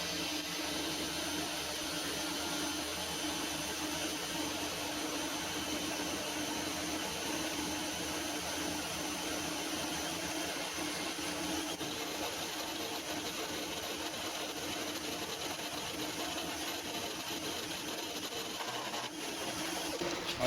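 Metal lathe turning a workpiece down to 20 millimetres in a home workshop, a steady even motor whine and cutting hum running continuously at moderate level with no talk.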